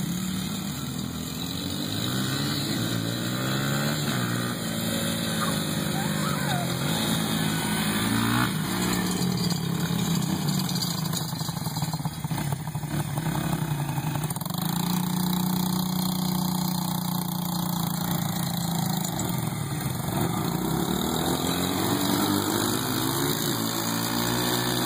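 A motorcycle engine on a father-and-son ride drones steadily and loudly for the whole stretch, with slight shifts in pitch and no talking.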